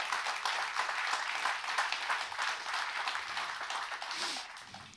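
Applause fills a room at a corporate event on reducing financial hardship, a steady, dense wash of many hands clapping that holds for several seconds and gently tapers at the end.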